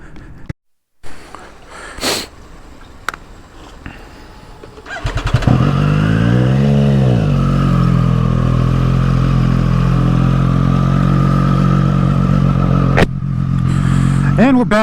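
A motorcycle ridden through Long Island City, New York, toward Brooklyn: after a few seconds of quiet, bumps and street noise, the engine starts, revs up sharply and then holds a loud, steady drone close by for the rest of the clip.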